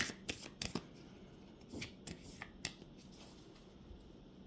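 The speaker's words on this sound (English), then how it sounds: "let me draw some more cards" Tarot cards being shuffled and drawn by hand, a quick series of crisp riffling snaps and flicks, close and fairly quiet, with softer rustling between bursts and no talk.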